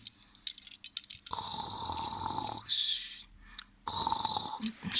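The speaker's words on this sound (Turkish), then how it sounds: "bir kere hayvan gibi horlama" Loud snoring from a person, drawn-out rasping breaths in and out repeating close up, with short pauses between them.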